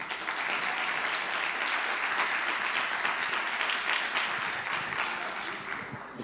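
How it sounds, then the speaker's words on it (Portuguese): Audience at a theology conference applauding as a pastor is welcomed to the stage, a dense, sustained wash of clapping that stays full and even for several seconds before easing slightly at the end. "Receba, por favor, o pastor com mais um aplauso."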